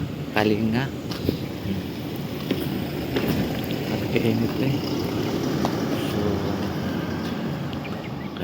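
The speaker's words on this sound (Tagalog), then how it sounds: "Lakas ng hangin dito sa Butuan City." Strong wind in Butuan City buffeting the microphone, a continuous rough rushing roar with gusty bumps, while someone talks over it.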